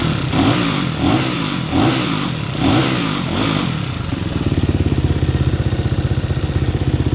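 A Fantic Caballero 250 flat track motorcycle with an Arrow exhaust revs in several rising and falling bursts, then settles into a loud, steady, throbbing idle close by.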